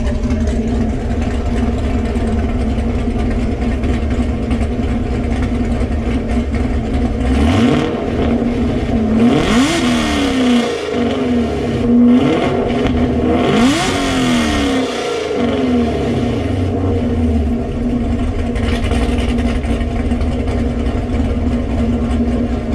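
An idling LS V8 engine rumbles steadily, then revs up sharply several times in quick bursts, each rising and falling back to a deep idle.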